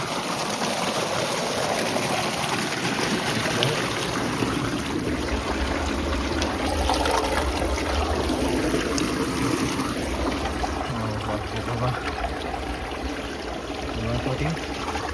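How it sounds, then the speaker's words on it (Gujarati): A household tap turned on in a family home, its water running steadily as a continuous wash that holds at an even level from start to finish, with voices talking faintly in the background. "પાણી ચાલુ"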